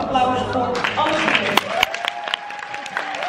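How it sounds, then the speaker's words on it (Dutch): A crowd at a school reading competition breaks into loud applause for the students, a dense clatter of clapping with cheering that swells, then thins into scattered claps. "En dan wil ik om te beginnen eerst een heel groot applaus voor alle"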